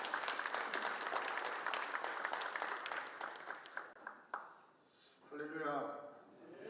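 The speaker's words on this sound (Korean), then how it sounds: "우리 목사님 박수로 환영하겠습니다" A church congregation at a Korean Christian council inauguration claps to welcome a pastor: dense, steady applause that tapers off, followed by a voice speaking.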